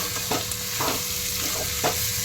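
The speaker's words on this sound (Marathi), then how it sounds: "छान ह्याला ढवळून घ्यायचं" Potato sabzi being stirred in a pan after salt goes in, with a few soft scraping strokes over a low, steady sizzle, close and fairly quiet.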